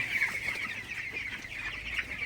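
A flock of broiler chickens clucking continuously nearby on a floor-reared litter system, a busy overlapping chorus of short calls with no talking.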